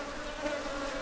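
Honey bees buzz steadily at an open hive in Ghana during a comb inspection, a dense, continuous close hum with no voices over it.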